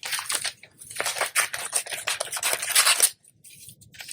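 Scissors cutting roughly through a glossy magazine page, a quick run of crisp snipping and paper rasps in close succession before a brief pause and a faint final cut.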